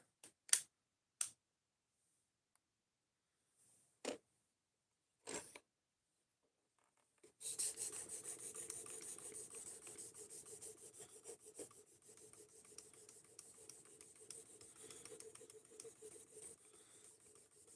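A knife is rubbed against a 1200 grit sharpening stone, a faint, steady rasping scrape that runs continuously after a few scattered knocks and handling sounds at the start.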